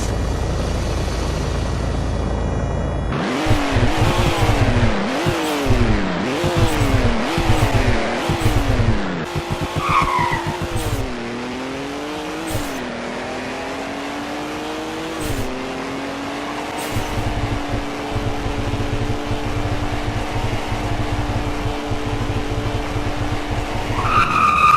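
A dual turbo trim car in the Roblox game Greenville revs hard through rising and falling gear pulls, then settles into a steady drone while its tires skid and squeal, loud and close throughout.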